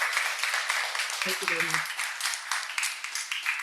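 Applause from a conference audience after a session presentation, continuous clapping filling the room while a voice briefly speaks over it.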